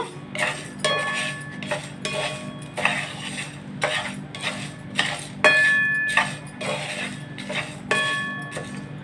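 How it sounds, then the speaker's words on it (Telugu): Dried red chillies are dry roasted in a pan on a low flame, with a spatula clinking and scraping against the metal in a steady rhythm of close, bright strokes about every second. "ఇప్పుడు ఇందులో ఎండుమిరపకాయలు కూడా వేస్తున్నా స్టవ్ మటుకు సిమ్లోనే పెట్టి వేపుతున్నాను"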